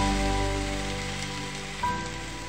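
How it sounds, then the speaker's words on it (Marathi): Egg rice sautéing in a pan with red chili sauce, ketchup and vinegar, a steady close sizzle that crackles like rain and fades slightly, with one brief clatter near the end. "तर मी चांगल्या प्रकारे परतून घेणार आहे।"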